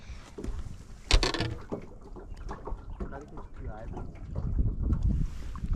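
Wind gusts over a fishing boat on open water, rumbling low and steady with a sharp blast near the start, while people talk throughout.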